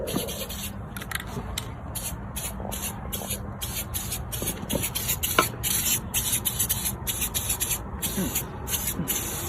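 Black wax undercoat sprays onto the underside of an INEOS Grenadier near a rusty brake rotor: a faint, steady hiss broken by rapid, rhythmic bursts, with soft rubbing and scraping beneath.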